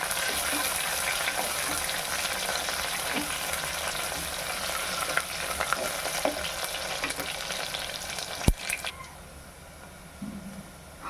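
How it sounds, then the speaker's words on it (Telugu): Onions fry in hot oil with mustard seeds for a tamarind-leaf dried fish curry, a steady close sizzle with occasional stirring scrapes and a sharp clink near the end. "ఆవాలు హీట్ అయిన తర్వాత ఉల్లిపాయలు తీసుకోవాలి ఉల్లిపాయ ముక్కలు బాగా ఫ్రై అవ్వాలండి"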